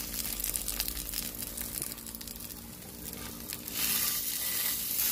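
Black chana seekh kababs sizzle steadily in hot oil as they are turned with a knife, a continuous close frying crackle that swells louder near the end, with no talking.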